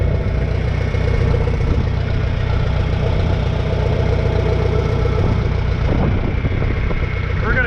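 A John Deere 3020 tractor engine idles close by at about 1,000 RPM with the PTO engaged, a low continuous rumble with even mechanical throb throughout, no voices.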